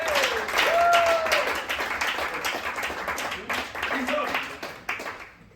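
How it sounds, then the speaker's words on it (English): Applause and cheering from the audience at a standup comedy show in Linkoping fill the room, rising and then tapering off as a comedian comes on stage. "Big round of applause for Dukaten."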